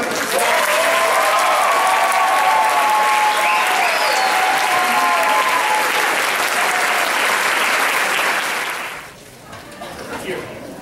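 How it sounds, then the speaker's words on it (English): An audience applauds a high school band loudly and continuously for several seconds at a spring concert, with a few cheers mixed in, before the clapping quickly fades away. "Please give them another round of applause."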